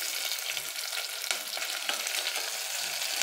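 Chopped onion sizzles steadily in hot ghee with cumin seeds in a pan, a dense continuous crackle with faint stirring scrapes, close and alone without any voices.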